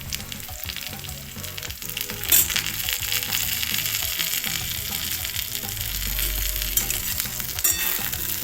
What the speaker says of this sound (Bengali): ফুলকপির সাথে মশলাটাকে ভালো করে ভাজা ভাজা করে নিচ্ছি